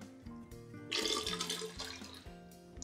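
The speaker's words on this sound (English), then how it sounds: "finally, we're going to add a little bit of water here." Water pours into a batch of sangria in a steady splashing stream that swells, then tapers, heard close and alone beneath a faint background hum.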